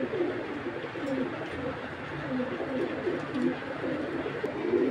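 Giribaz pigeons in a collection coo steadily in a soft, rhythmic, overlapping chorus, close and continuous over a low background hum.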